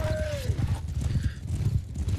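Hoofbeats clip-clop from mounted archers' horses in a video game, with a short whinny near the start, the clatter running steadily throughout.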